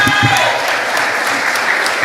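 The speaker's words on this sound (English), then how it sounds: "Give him a round of applause" A schoolroom audience claps for a primary school quiz contestant, a full, steady round of applause heard up close, with voices mixed faintly into it.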